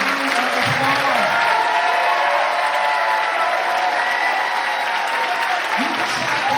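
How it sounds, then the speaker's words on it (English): Loud, steady audience applause fills a graduation ceremony hall for the PS 11 Class of 2024, continuous clapping throughout with faint voices beneath. "Give our students a round of applause"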